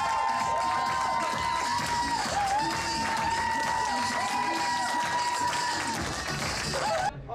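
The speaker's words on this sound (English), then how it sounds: "a huge applause to Mr. Ralf Behn!" An audience applauds and cheers for a speaker at a health talk event, a sustained wash of clapping and crowd noise with a bright whistle-like tone running through it, loud and continuous before cutting off abruptly.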